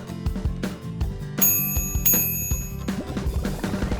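Bell ringing in a kids' police cartoon, a bright bicycle-style bell chiming twice in quick succession over bouncy background music, with no speech.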